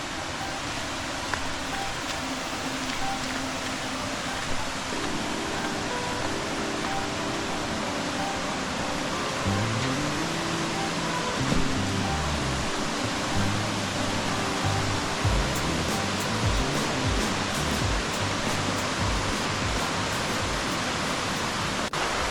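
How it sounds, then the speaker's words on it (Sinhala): A waterfall pours down over rock at Ella Uda Ella in Sri Lanka, giving a broad, steady rushing roar that stays even and continuous from start to finish, with a faint low tonal hum running underneath. "මෙන්න මෙතනින් තමයි පල්ලෙහාට දියඇල්ල ගලාගෙන යන්නේ."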